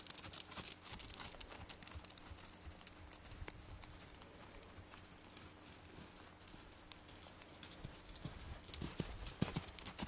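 A stallion canters under saddle, its hooves giving a quick rhythmic clip-clop on the ground that carries throughout at moderate distance, with a faint voice at times.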